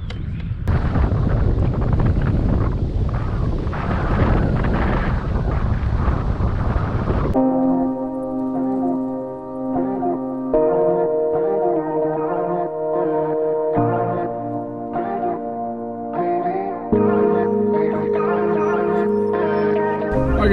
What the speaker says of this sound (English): It wasn't supposed to be this windy today